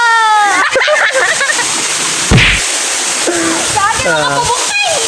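Water rushes steadily at Altar Falls, a broad continuous roar beneath people talking and calling out nearby, with a brief louder splash partway through.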